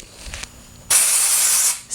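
Dry shampoo aerosol sprayed onto hair in one long, loud hissing burst lasting about a second, then a brief pause and a second short spray, with no talking.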